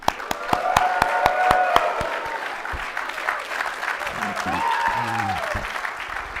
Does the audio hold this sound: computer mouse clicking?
no